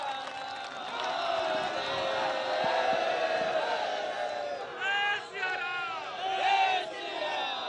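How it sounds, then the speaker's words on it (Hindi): A crowd cheers, whoops and shouts to welcome BJP MLC Dharmendra Rai at an Aaj Tak Rajtilak political debate in Mirzapur. Scattered clapping sits beneath loud, overlapping voices that swell and surge near the end. "तालियों के साथ स्वागत कीजिए।"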